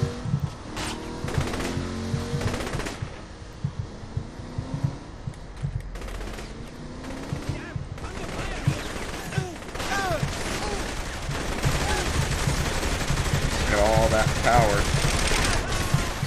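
Bursts of gunfire from a shootout in the video game Saints Row: The Third, mixed with automatic fire, car noise and someone talking during a driving chase.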